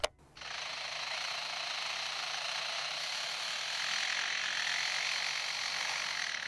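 Lyrebird imitating mechanical hammering, a dense, continuous rapid jackhammer-like rattle that starts abruptly and holds steady and loud for several seconds, alone without talk.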